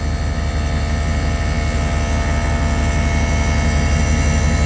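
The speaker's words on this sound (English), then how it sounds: "is filling faster then the air will actually go into the tire." An Extreme Aire Magnum on-board air compressor filling a tire, a loud, constant mechanical drone with a fast pulsing motor rhythm, steady throughout and close by.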